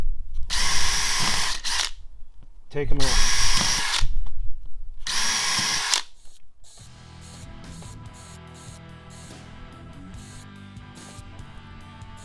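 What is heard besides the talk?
power drill chain drilling sheet metal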